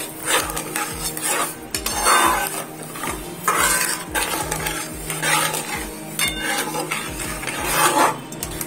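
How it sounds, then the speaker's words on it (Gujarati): Grated coconut mixture for coconut Mysore pak stirred in a pan with the heat off, a steady scraping rub of spoon against metal repeating in a quick regular rhythm, close and fairly loud with no voices. "આપણે હલાવતા હોય ત્યારે એક જ હાથ હલાવવાનો છે"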